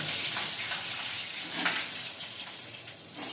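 Steady hiss and crackle of oil sizzling in a kadai while duck egg biryani is being cooked, continuous and fairly close with no talking over it.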